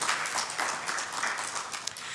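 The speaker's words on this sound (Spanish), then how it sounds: "Dele una ofrenda de palmas a nuestro amado Dios." A church congregation claps together in a steady, dense round of applause that carries on from start to finish, with no voice above it.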